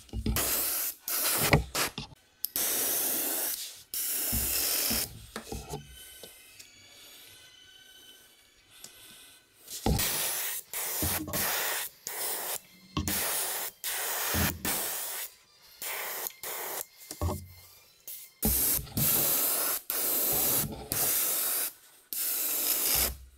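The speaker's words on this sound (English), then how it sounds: "So let's get painting. And we'll do a few heavy coats of this." An aerosol can sprays pearl white paint onto a muskie crankbait lure in repeated loud, close hissing bursts of varying length, separated by short pauses.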